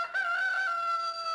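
A cartoon rooster crows once in a long, loud, steady call, clear and close with no talking.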